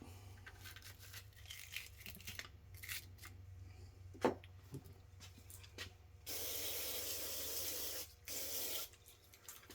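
Carb cleaner sprayed into an old two-jet carburetor from a 1965 Chevelle while it is scrubbed, scattered scraping and clicking, then two sustained loud spray bursts near the end, close and quiet overall.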